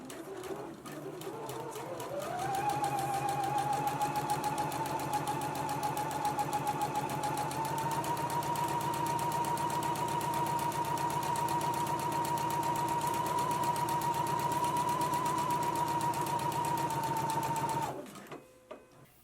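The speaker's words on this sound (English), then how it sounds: "we can go ahead and stitch at a 5/8 of an inch seam allowance" A domestic sewing machine runs steadily for about fifteen seconds stitching hem band side seams at a 5/8 inch allowance, a close, even whirring drone that spins up at the start and stops abruptly near the end.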